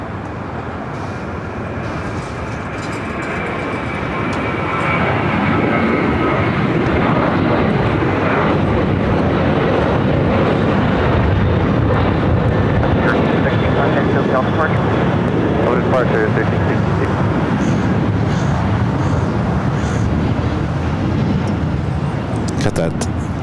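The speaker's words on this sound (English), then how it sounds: "Got that Japan Airlines Dreamliner now heading here to the south side." A jet airliner at Los Angeles International Airport swells into a loud, steady roar over several seconds and holds it, a broad engine rumble close by, with faint speech under it.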